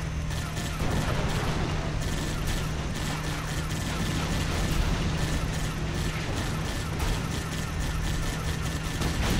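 Dense, continuous bursts of assault rifle fire in the Halo: Spartan Strike video game, with rapid shots and mechanical clatter running steadily throughout at a loud, even level.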